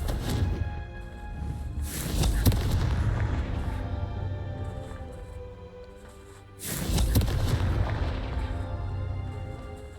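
Booming spell blasts in the video game Hogwarts Legacy, two big explosive bursts with long rumbling tails over steady game music, the second swelling loud after a brief lull.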